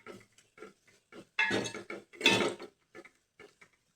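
A spoon clinks and scrapes in a pan of cucumber gravy, making a series of short, irregular metallic taps and stirring strokes. They are close and moderately loud, with two longer scraping bursts in the middle.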